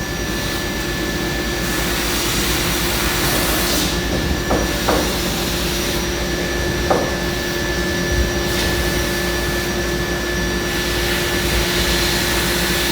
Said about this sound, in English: Cutting our rivet holes now in the handle where the lanyard goes.